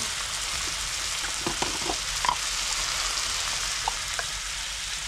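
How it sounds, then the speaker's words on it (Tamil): Butter and cashews fry in a pan, giving a steady close sizzle with a few soft stirring clicks and pops over it. "பட்டர் உணஞ்சு போடும் நல்லா இருக்கும் போடும் போடும் இல்லை ஒட்டியிருக்கோம்மா இது கூடயே முந்திரி சேர்த்துக்கலாம்"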